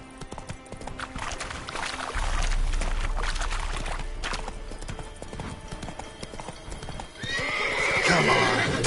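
Roach the horse galloping in The Witcher 3: a steady rapid clip-clop of hooves with a low rumbling undertone, ending in a loud whinny near the end.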